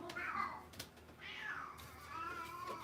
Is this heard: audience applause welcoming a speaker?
no